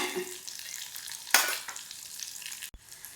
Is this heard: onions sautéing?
yes